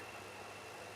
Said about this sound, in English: I think it's the sound of the overhead power lines.